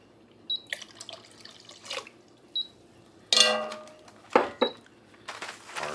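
Water from a kitchen tap runs into a measuring cup while Hamburger Helper is being made, with short splashing bursts, faint clinks of dishes and quiet gaps between pours.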